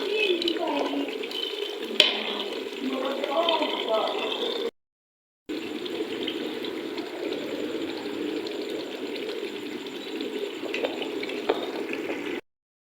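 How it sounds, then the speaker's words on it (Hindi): Taro and eggplant roasting in a pan give a steady, close sizzle that runs on without a break. A voice talks over the frying throughout, and the sound drops out briefly partway through. "और इनकी अच्छे से करेंगे भुनाई"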